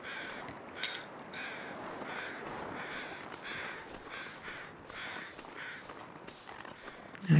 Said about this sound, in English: I believe I hear a bird of some sort.